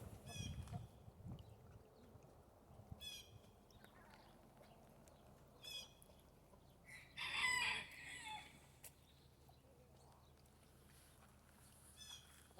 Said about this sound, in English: it's cool to hear him when he crows